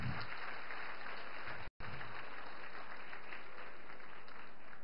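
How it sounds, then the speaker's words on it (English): Applause fills a hall for children who have just performed, a continuous, moderately loud clapping wash broken by a very brief dropout near the middle and then resuming unchanged. "huge round of applause to the kids who perform."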